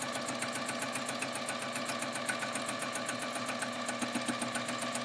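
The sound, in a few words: sewing machine running during free-motion quilting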